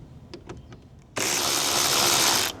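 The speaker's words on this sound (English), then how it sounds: "With the 10mm tool, this top piece needs to be lifted or taken out. So remove each of the bolts on the side." A power tool with a 10mm bit whirs steadily for just over a second while removing a bolt from the hood panel of a 2025 Toyota RAV4 hybrid, loud and close, after a few soft clicks and handling noises.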